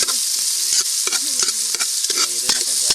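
Tomatoes sizzle steadily in a hot pan while a utensil scrapes and stirs them in repeated clanks, close and loud.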